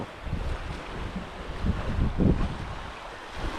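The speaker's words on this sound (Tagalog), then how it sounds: "malakas ang hangin tapos ang labo ng tubig" Strong wind ahead of an approaching typhoon buffets the microphone in low, rumbling gusts, with the wash of rough, murky water faintly beneath.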